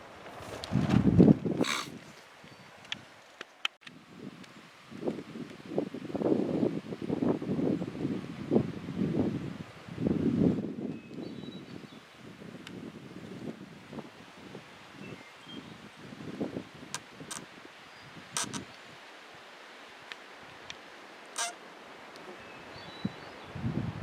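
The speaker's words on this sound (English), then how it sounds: "There is so much wind" Strong wind at a campsite rumbles and buffets in long uneven gusts, with rustling and occasional sharp knocks and snaps as it eases toward the end.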